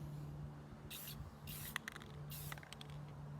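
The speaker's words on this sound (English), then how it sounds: "we give it a real thin shot, spray" A few short hissing bursts of Rustoleum 2X Ultra Satin clear coat from an aerosol can are sprayed thinly onto weathered powder-coated bars, with quiet pauses between the bursts.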